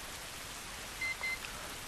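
Steady rain in The Last of Us video game, an even, soft hiss of falling water with no talk over it, faint and continuous throughout.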